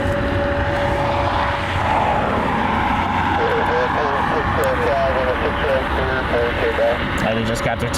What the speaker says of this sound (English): They just got their takeoff clearance.